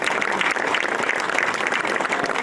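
An indoor crowd at an inn's ribbon-cutting fundraiser claps steadily and continuously, a dense, even wash of hands with no voices on top.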